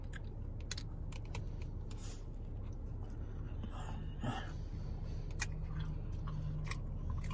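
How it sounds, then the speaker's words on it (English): Guava paste with cheese being chewed, with faint wet crunching and mouth clicks scattered irregularly over a low room hum and soft background murmur. "chew with your mouth closed"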